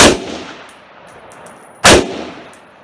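Two loud, sharp gunshots from a Palmetto State Armory PSA-10 rifle, close by, fired about two seconds apart, each trailed by a ringing metallic echo.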